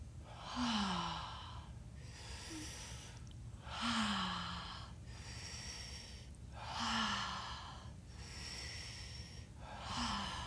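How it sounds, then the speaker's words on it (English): Two people inhale together in a partner breathing exercise, slow deep breaths swelling about every three seconds, four in all, soft and close with no talk. "we both do breathing in at the same time"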